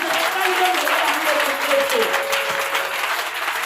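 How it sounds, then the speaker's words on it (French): A church congregation at a prayer service cheers and applauds Jesus Christ. Steady, loud clapping mixed with crowd voices carries through the whole stretch. "Aidez-moi à acclamer très fort Jésus-Christ."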